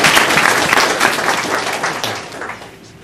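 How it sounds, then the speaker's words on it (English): A church congregation applauds together in a dense burst of clapping that gradually fades out over a few seconds. "Clap for Jesus."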